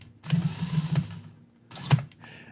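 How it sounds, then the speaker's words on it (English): A small drill bores a hole through the plastic mirror of an ECX Barrage UV 1/24-scale RC crawler, giving two short, faint whirring bursts separated by a brief pause. "I'm actually gonna take my drill bit and go right in through this mirror and drill out another hole"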